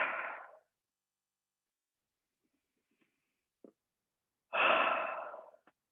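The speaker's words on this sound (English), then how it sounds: "take a deep breath in through the nose and exhale through the mouth" A slow, calm breathing exercise: one breath fading out at the start, a quiet pause with faint small clicks, then a deep audible inhale and a long, soft exhale, close and alone with no talking.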